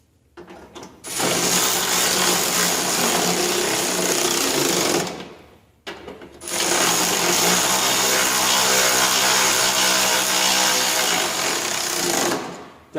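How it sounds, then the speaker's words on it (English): An electric ratchet runs down bolts with locking hardware on a Lawnboy Insight single-stage snow blower: two long, loud, steady whirring bursts, the first about four seconds and the second about six, separated by a short pause. "So now we can get the electric ratchet."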